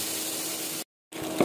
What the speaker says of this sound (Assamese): এতিয়া অলপমান ভাজিম এনেদৰে